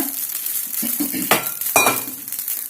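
A dosa cooks on an oiled pan with a soft sizzle, broken by a few scraping and clinking touches of a spatula near the middle; no talk.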